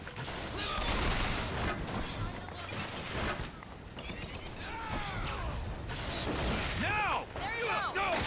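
BioShock Infinite gunfire crackles in rapid, overlapping bursts close by, mixed with mechanical clanks, whistling ricochets and shouting voices.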